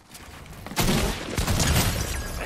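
A sniper rifle shot in a video game rings out loud and close, a single sharp blast followed by a lingering, noisy tail.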